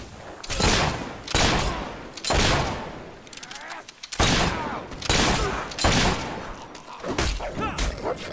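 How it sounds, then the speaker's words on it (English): Gunfire erupts in the game Fable 3, a string of heavy, booming shots at roughly one-second intervals, each sharp crack followed by a short rumbling tail, loud and close throughout. "The scumbag's shooting at us!"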